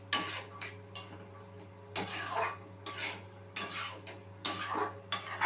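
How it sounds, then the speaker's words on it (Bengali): Spicy ghugni being stirred and fried with spices in a pan, rhythmic bursts of scraping spatula strokes at an uneven pace, close and moderately loud over a steady low hum, with no voices. "ভালোভাবে আমি মিশিয়ে নেবো, জাস্ট একটু ভালো করে কষিয়ে নেবো।"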